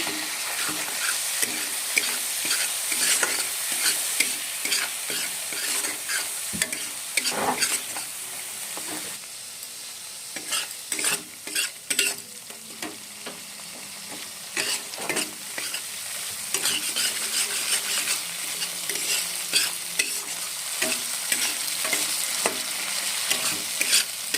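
Spices with salt and turmeric being sautéed for a rohu fish curry, a steady oily sizzle broken by frequent scraping stir strokes of a spoon against the pan, close and fairly loud with no voices.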